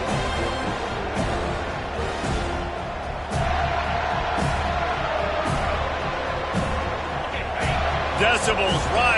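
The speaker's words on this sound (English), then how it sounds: "Decibels rising as the crowd gets behind this defense on third down." A stadium crowd at a football game roars steadily behind the defense on third down, a dense sustained cheer that rises in volume, with a commentator talking over it throughout.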